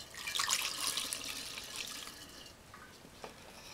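Liquid for home kit wine pours into a measuring cup up to 200 ml, a soft close splashing trickle that fades toward the end, fairly quiet.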